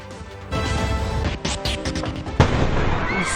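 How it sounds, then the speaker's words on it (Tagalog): A deep, booming blast erupts amid the roar of a house fire, with crackling and a sharp burst later on. Faint voices are audible in the background. "Tila bomba ang sumabog sa kasagsagan ng sunog sa isang bahay"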